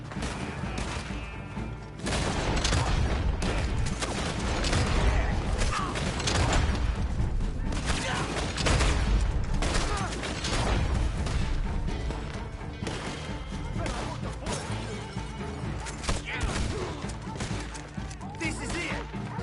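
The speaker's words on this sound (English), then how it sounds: "Some shots here." Gunfire in Red Dead Online, a dense stretch of overlapping shots and impacts that swells after the first couple of seconds and stays loud and busy, mixed with game noise and some talk.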